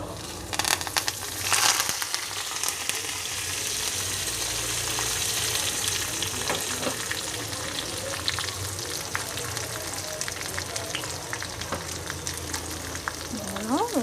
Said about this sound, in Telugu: ఇవన్నీ ఇప్పుడు ఈ దినుసులన్నీ మన పోపులో వేసేద్దాం.